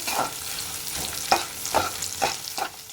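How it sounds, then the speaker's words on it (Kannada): Onions sauté in a pan with fried chilies for naati chicken sambar, a soft continuous sizzle punctuated by several rhythmic spatula scrapes and stirs at close range. "ಮೆಣಸಿನ್ಕಾಯಿ ಫ್ರೈ ಆದಮೇಲೆ ಈರುಳ್ಳಿ ಹಾಕೊಳ್ಳೋಣ ಸ್ವಲ್ಪ ಬಾಡಿಸ್ಕೋಬೇಕು"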